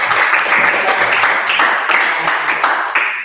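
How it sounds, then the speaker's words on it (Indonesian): A classroom group claps together after a learner solves a wolf, goat and cabbage logic puzzle on the first try, a steady dense patter of hands filling the whole stretch at close range. "Tepuk tangan."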